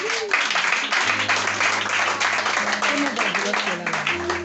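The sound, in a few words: church congregation applauding the Lord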